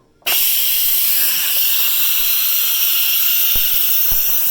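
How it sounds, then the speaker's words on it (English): An Instant Pot vents steam during pressure release through a PVC elbow fitted over the valve: after a brief quiet start, a loud, constant, close rushing hiss carries on without a break, with no talking. "we just let the pressure release until that little silver valve there drops"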